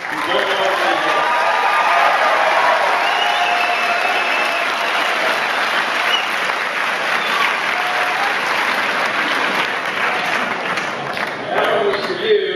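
A large crowd of students gives steady, loud applause to student volunteers at a TARC 2010 briefing, with dense clapping and some cheering that carry on without a break for several seconds.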